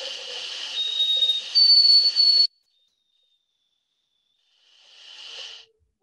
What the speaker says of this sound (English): It's a pure whistle tone.